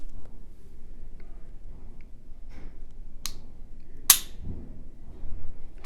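Hudson H9 pistol trigger pulled and reset, giving a few sharp isolated clicks, two louder snaps near the end amid a quiet room hush.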